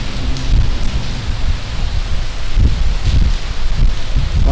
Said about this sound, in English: It is raining to beat the band out there.